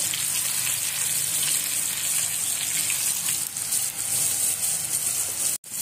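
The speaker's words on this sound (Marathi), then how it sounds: "आणि आता पापलेट आपण फ्राय करायला ठेवूया।" Pomfret fish frying in a pan over low flame, a continuous bright hiss of oil sizzling steadily close by, with a brief sharp knock near the end.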